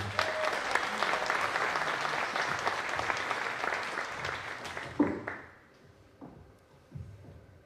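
Applause from a pageant audience greets a contestant at the Reine de la Dentelle lace queen event, dense clapping for about five seconds before it dies away to near quiet, with a few scattered noises after.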